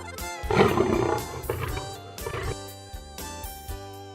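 A tiger's loud roar bursts out, followed by a few deeper rumbling growls and snarls that trail off, with no voices present.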